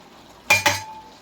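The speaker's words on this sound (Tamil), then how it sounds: "இப்போ தூளை போட்டு பரட்டி விட்டுருவோம்." A utensil stirs chili powder into chicken kuzhambu in a pan, giving two quick metallic clinks against the pan over a soft background hiss.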